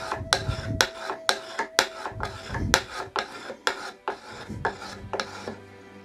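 Steel card scraper edge being sharpened and its burr worked on the second side, a close series of about a dozen sharp rasping strokes in an even, brisk rhythm, with no talking.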